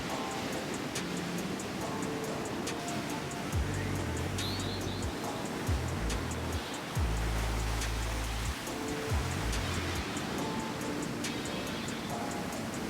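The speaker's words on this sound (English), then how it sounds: "the Atlantic Ocean." Atlantic Ocean surf washing onto the shore near Faro, Portugal, a continuous broadband rush of water with deep rumbling surges swelling and receding several times.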